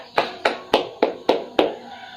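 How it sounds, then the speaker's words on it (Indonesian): Six evenly spaced, sharp hand claps from a classroom group, each a crisp burst with a short decay, fairly close and heard alone without talking. "Mari kita tepuk tangan untuk diri kita masing-masing"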